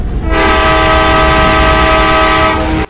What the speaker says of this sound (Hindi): आप लोग को इसका ट्रेन का हॉर्न भी सुनाएंगे